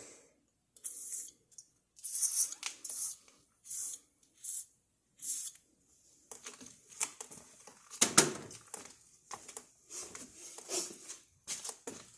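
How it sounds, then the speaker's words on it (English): Repeated short hissing bursts of aerosol lubricant sprayed on rusty rear brakes of a 2006 Chevrolet Suburban, close and fairly quiet, followed by scraping and clattering of metal parts. "Spray some lube on there."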